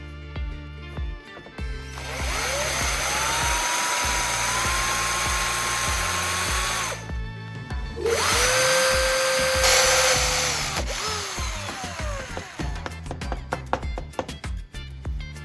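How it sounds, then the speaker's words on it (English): A small bit drilled slowly through a metal bulb socket to widen its hole, a steady high whining drill tone in two long runs separated by a short pause, loud and close, with clicks and handling noise at the end. "I will use a small drill bit to widen the hole in the bulb socket"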